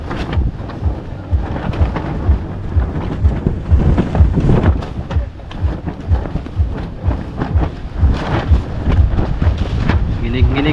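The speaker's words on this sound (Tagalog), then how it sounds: "inuuga pa ng hangin yung bangka" Strong gusty wind buffets a small boat out on the water, a loud, continuous roaring rush with rumbling low thuds and surges throughout, with occasional voices beneath it.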